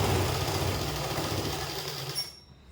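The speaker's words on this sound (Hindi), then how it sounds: "हमारा जो लाइनिंग वाला पल्ला है उसमें पूरे में सिलाई लगाऊंगी" A sewing machine runs steadily while stitching the lining panel of a palazzo, a continuous mechanical whir with rapid needle rhythm, moderately close, before stopping abruptly near the end.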